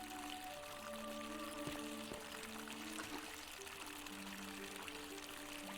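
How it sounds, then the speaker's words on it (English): Steady running water from a fountain in The Forgotten City video game, a continuous soft pouring stream, faint and even throughout, with tonal game music layered over it. "Fountain producing fresh water?"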